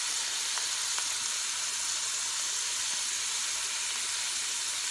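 Onions and garlic fry in a hot pan for Puerto Rican rice, giving a steady broad sizzling hiss that holds evenly throughout, close and continuous with no talking.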